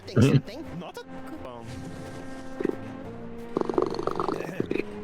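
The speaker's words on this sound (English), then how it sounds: "He's purring. That's what a purr sounds like, Daniel." A loud, steady cat purr rumbles continuously beneath several people chatting and laughing nearby.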